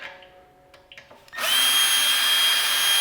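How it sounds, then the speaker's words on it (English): A few faint knocks and scrapes, then a power drill starts up and whines steadily and loudly at close range, drilling out a spot weld on a damaged Subaru STI. "then you want to take your 16-inch drill bit"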